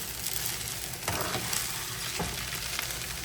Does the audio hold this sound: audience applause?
no